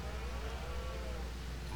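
Cattle in the Farming Simulator 19 video game low steadily with a continuous, dense moo at moderate volume, filling the short moment without pauses or voices.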